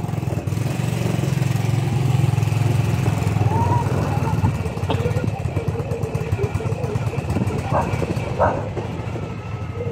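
Steady low engine rumble of touring motorcycles approaching in Dapitan City, loud and continuous, with faint voices and a brief dog bark in the background.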